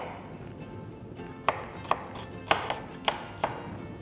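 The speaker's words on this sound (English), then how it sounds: "You can actually take a little bit of the white as well and just chop it up." A knife chops spring onion on a board, landing about six crisp, evenly spaced thuds over a low steady background hiss.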